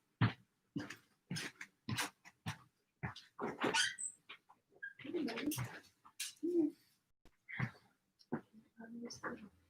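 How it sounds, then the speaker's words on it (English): A pet dog at home gives short, sharp vocal bursts, barking and yelping, mixed in with a person talking nearby. "I'm just gonna grab my dog so he's not gonna bark."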